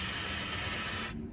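Aerosol lubricant sprayed onto the friction slides of a tool box in one steady, close hiss that cuts off sharply near the end.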